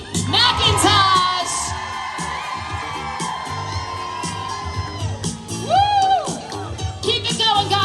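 Fan convention crowd in Los Angeles cheering, whooping and screaming, dense and loud throughout with high shrieks rising and falling, sustained excitement swelling again toward the end.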